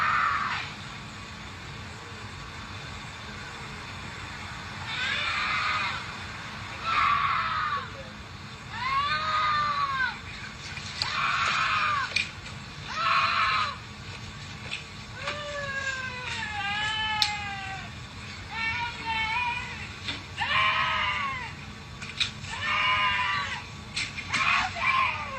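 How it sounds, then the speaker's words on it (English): A woman screams and wails in long, rising-and-falling cries, repeated again and again over steady street background noise, heard as a playback of someone walking down a street. "there was a woman walking down the street, calmly just screaming"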